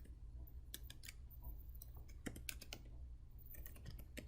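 Rapid typing on a computer keyboard during data entry in a cloud database console, with irregular bursts of close key clicks over a steady low hum.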